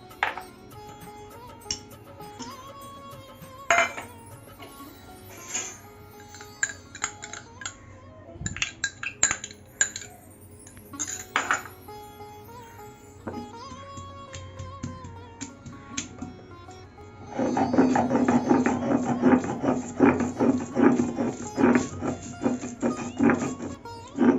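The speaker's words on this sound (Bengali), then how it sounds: "কয়েকটা কাজু ভিজিয়ে রেখেছিলাম আর পোস্ত ভিজিয়ে রেখেছিলাম সেটা এখন বেটে নেবো" Soaked cashews and poppy seeds are ground into a paste for potol korma, with soft clinks and background music giving way to a loud, dense, steady grinding roar through the final stretch.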